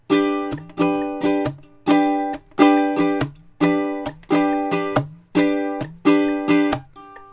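A ukulele strums a steady repeating rhythmic pattern in time with a metronome, groups of quick bright chord strokes recurring evenly, close and clear with no voices.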